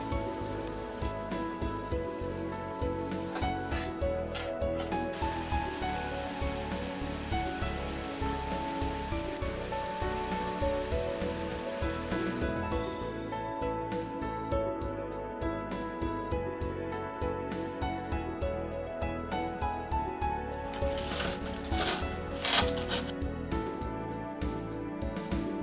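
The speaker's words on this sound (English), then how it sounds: "Deep fry until golden brown." Salmon katsu pieces deep frying in hot oil, a steady dense crackle and sizzle of bubbling oil running throughout, loud and close with no talking.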